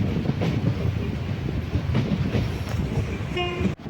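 Passenger train running between Kollam and Alappuzha, a loud continuous rumble with rhythmic wheel clatter, ending in a short tonal horn or whistle blast followed by an abrupt cut.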